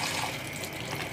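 Cooked spaghetti being rinsed under a running kitchen tap, a steady close splash of water pouring over the noodles without a break, with no voices.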